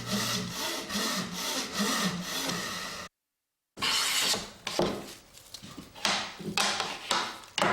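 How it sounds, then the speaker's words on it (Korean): A traditional Korean woodworker saws wood by hand with a steady, raspy back-and-forth rhythm, close and loud, pausing briefly before resuming more vigorously. "또 다른 내일의 기대감으로 톱질을 하는 그의 손에 힘이 들어간다."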